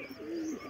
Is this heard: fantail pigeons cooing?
yes